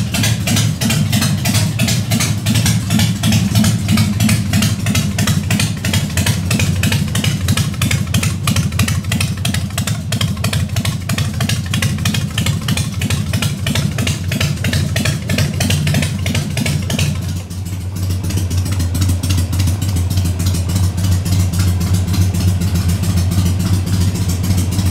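A motorcycle engine idles steadily and loudly, a continuous low rumbling throb that dips briefly near the end before settling back into the same even idle.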